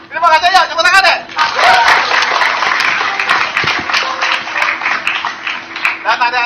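An audience at a Lenggang Palembang performance claps continuously, a dense crackling patter of many hands that holds steady for several seconds, with a voice speaking over a microphone at the start.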